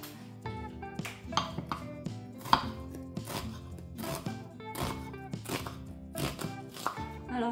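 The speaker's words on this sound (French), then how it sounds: "je commence par couper l'oignon en premier" An onion being chopped with a knife on a cutting board during home cooking: a quick, irregular run of sharp chops with tonal background music throughout.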